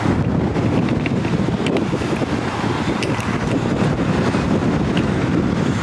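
Strong wind buffets the microphone continuously, a loud roaring rumble with no pauses.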